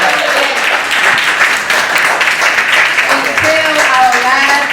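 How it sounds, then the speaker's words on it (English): A live podcast show audience claps loudly and continuously, with voices and cheers rising over the dense crowd applause, especially near the end. "give yourselves a round of applause"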